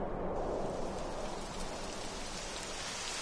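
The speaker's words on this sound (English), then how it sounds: "It would have to go and start raining, wouldn't it?" Rain begins falling in the video game Dragon Quest XI, a steady dense hiss of downpour with a low rumbling undertone, constant and enveloping throughout.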